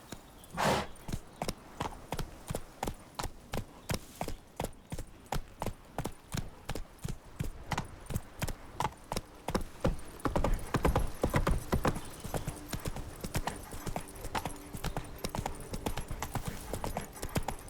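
Hooves of the horse Roach in The Witcher 3 galloping, a fast steady clip-clop rhythm running throughout, growing louder and busier toward the end, with no voices.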